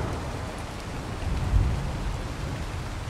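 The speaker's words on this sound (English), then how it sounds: "I always forget that the game volume is quite loud on this game, especially when it's raining and thunderstorm." Steady rain falls in the video game ARK Survival Evolved, with a dense hiss running throughout and a low rumble of thunder swelling near the middle.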